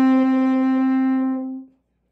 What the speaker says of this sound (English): And then if I put my mouthpiece into my French horn,